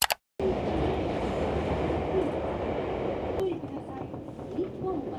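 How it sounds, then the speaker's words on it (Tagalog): A train pulling into a station in Osaka, Japan, a steady loud rumble of rail noise that carries through the whole stretch, with people talking over it. "Yan na yata yung train natin."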